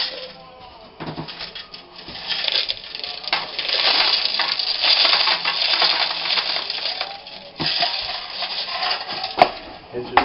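Gravel pours into a plastic tub in a loose, rattling trickle of small stones, fairly quiet and close, with a person speaking at times.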